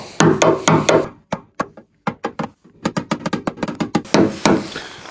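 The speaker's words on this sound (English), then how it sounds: "Just going to knock those down just to release a bit of pressure" Sharp knocks of a tapping tool on a BMW quarter panel, knocking down high crowns during paintless dent repair at the dog leg; a dense flurry of close, loud raps, a short pause, then steady rhythmic taps building again.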